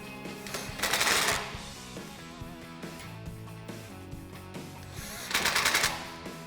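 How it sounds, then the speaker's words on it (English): Ratchet and 3/16 socket tighten Allen bolts on a Rugged Ridge roof rack on a Jeep Wrangler JL hard top: two bursts of quick, rattling ratchet clicks, close and fairly loud, with quieter handling noises between them. "to tighten up the Allen bolts, you can either use the Allen key in the kit or a 3/16 socket"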